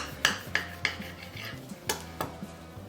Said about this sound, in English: I'm just going to use a very sharp knife, and I'm just going to cut the little edges off